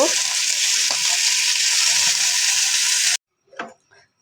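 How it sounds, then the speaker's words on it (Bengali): Fish frying in a pan, a loud dense steady sizzle that stops abruptly, followed by a couple of brief clattering sounds. "মাছ ভাজি করে নিচ্ছি"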